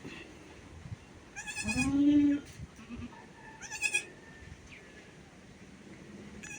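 Newborn goat kids bleat in a few high, wavering cries, one longer call followed by a shorter one, close by over quiet outdoor background.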